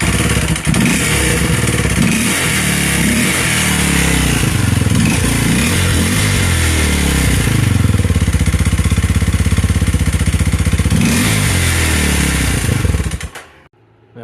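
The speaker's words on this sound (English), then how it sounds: "Go ahead and give it a sound." A Kawasaki KLX230SM motorcycle with the air-box snorkel removed and a full-stand Next ECU revs loudly and close, with repeated throttle blips over a rough idle before cutting off at the end.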